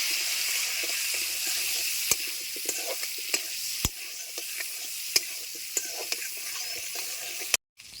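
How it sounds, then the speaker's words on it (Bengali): Whole onions fry in hot oil seasoned with turmeric and salt, giving a steady close sizzle broken by scattered sharp pops and a few stirring scrapes, then a brief cut to silence near the end. "গোটা পেঁয়াজগুলিকে আমি হালকা ভেজে নেব।"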